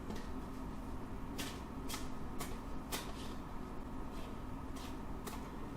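Tarot cards are shuffled in a series of quick, crisp riffling bursts spaced about half a second to a second apart, faint and close over a constant low background hum.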